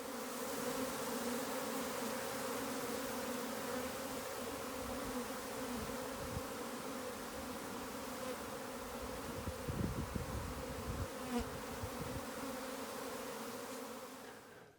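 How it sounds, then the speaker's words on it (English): A honey bee swarm fills the air with a dense, steady buzzing drone, loud and continuous throughout, with no voices over it. "a bee swarm, if you've never seen one, is one of nature's absolute great wonders"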